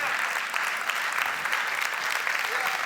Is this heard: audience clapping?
yes